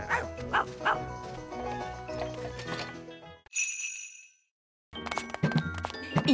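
A cartoon character imitates a sheepdog with a few sharp woofs and yips amid tinkling music and talk, followed by a chime, a brief silence and more barking.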